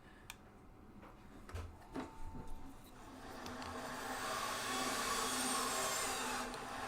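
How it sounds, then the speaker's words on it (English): A bandsaw cuts through a 3D-printed part, its motor noise building into a steady, rising whine after a few clicks and knocks at the start. "All the bandsaw noises."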